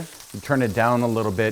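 Chicken pieces fry in grapeseed oil in a hot steel pan over medium-high heat, a steady sizzle running underneath someone talking close by.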